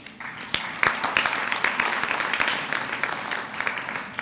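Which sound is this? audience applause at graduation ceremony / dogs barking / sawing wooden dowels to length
audience applause at graduation ceremony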